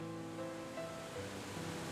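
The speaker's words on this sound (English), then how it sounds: "I heard the terrible roar of water from the passageway on the other side of the hall." Rushing water roars through a passageway in the Ever 17 video game, a dense, steady broadband wash with no break across the short moment and no voices.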